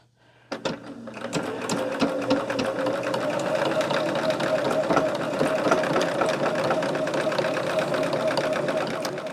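A sewing machine runs steadily for about nine seconds as it stitches across a bag in the opposite direction. The motor whirs in a fast, even rhythm of needle strokes that starts abruptly, stays close and loud, and has no talking over it.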